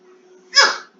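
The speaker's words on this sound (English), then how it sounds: "Little newborn sneezes." One small, high sneeze from a newborn baby, short and close, rising out of near silence.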